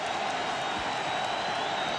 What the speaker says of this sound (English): Crowd really buzzing.